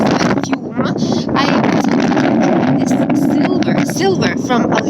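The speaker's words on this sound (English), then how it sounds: "And it started to be very windy." Strong wind gusts buffet an outdoor microphone in a loud, continuous roar across the whole stretch, with a voice talking underneath.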